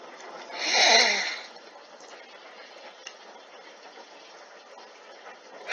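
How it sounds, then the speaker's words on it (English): A tired person gaming yawns once, a soft breathy swell near the start that fades into quiet room noise. "Sorry, I keep yawning."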